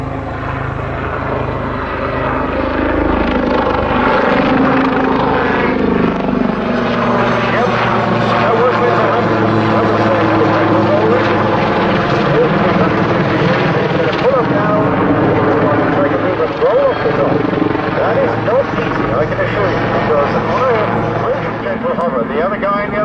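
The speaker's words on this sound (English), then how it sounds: "the final aircraft display of the afternoon, the Army Air Corps Lynx helicopter" An Army Air Corps Lynx helicopter flies an air display, its loud, continuous rotor and turbine roar rising and shifting as the aircraft manoeuvres nearby.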